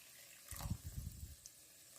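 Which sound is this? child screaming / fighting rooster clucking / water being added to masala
water being added to masala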